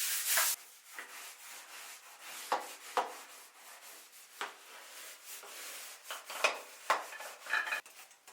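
Scrubbing in a bathroom with a bleach-based bathroom cleaner, a series of separate rubbing strokes and swipes, fairly close but not loud, in uneven bursts with short pauses between them.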